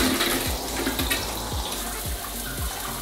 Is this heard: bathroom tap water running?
yes